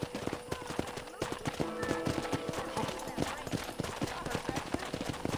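Rapid horse hoof clip-clops in the video game Red Dead Redemption patter steadily and close throughout, with faint murmured voices and a brief whinny-like squeal mixed underneath.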